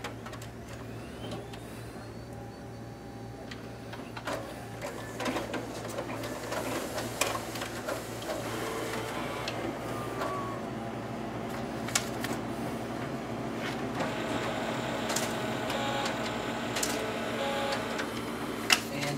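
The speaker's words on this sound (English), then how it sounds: "now we'll go ahead and test out the document feeder on this machine as well" Konica Minolta bizhub C360 color copier running its document feeder with two test pages, a steady close mechanical drone with rhythmic clicks, whirs and paper-handling clacks throughout, no voices.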